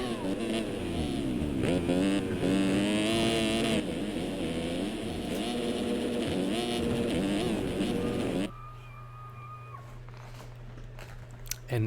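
Motocross bikes on a warm-up lap in the MX Simulator video game, with engines whining and revving in a continuous wavering drone that cuts away to quieter background near the end, heard under a commentator's talk.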